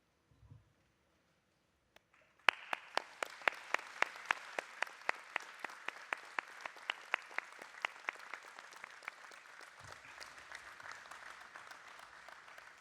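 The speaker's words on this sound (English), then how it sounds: "join me in thanking them by giving them a warm round of applause" At a university engineering graduation ceremony, an audience bursts into warm applause for families and supporters, starting abruptly after a quiet moment, with a few sharp prominent claps over steady crowd clapping that continues to the end.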